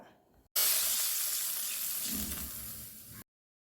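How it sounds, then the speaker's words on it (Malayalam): Milk is poured into a pan of hot ghee, setting off a sudden loud hiss and sizzle that fades slowly over about three seconds before cutting off. "ഞാൻ പാത്രത്തിൽ തന്നെ അര സ്പൂൺ നെയ്യ് ഒഴിക്കുക അതിലേക്ക് നമുക്ക് എടുത്തു വച്ചിരിക്കുന്ന പാലൊഴിച്ചു കൊടുക്കാം"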